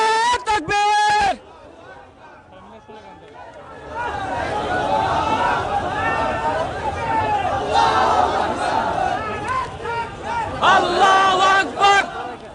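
A crowd of Islamic party protesters besieging the French embassy in Bangladesh shouts slogans in loud, rhythmic call-and-response chants. Voices swell and fall over a steady rumble of crowd noise after a brief lead-in.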